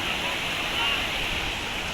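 Yamuna river water rushing along the Yamunotri route in Uttarakhand, a steady broad roar of flowing water close by, continuous throughout.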